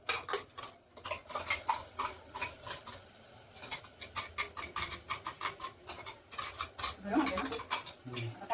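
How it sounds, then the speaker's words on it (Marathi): Rapid, steady scraping and clinking of a spoon in a pan as ground masala paste is stirred into softened onions for Kolhapuri misal, a close, continuous rhythmic patter. "कांदा आपला सॉफ्ट झालेला आहे आपण ह्याच्यामध्ये आता हे वाटण केलेलं घालूया"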